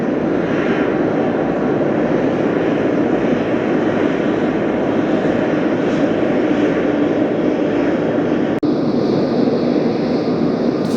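A turbojet airliner comes in to land in a gusty crosswind at Las Vegas, its engines a loud, sustained roar mixed with wind noise for the whole stretch, with a sharp click partway through.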